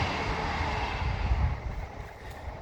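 A train passes as a broad, steady rumble and roar, loud and fairly close, slowly easing off toward the end with no voices.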